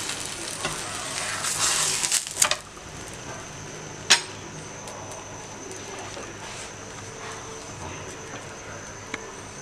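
A spicy cheese paratha fries in a pan over medium heat, giving a steady soft sizzle with a few sharp clinks and taps from the pan along the way.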